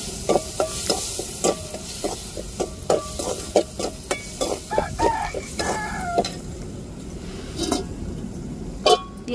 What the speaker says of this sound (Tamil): அதை தாளிக்கிற போட்டு நல்லா தாளிச்சிடுவோம்.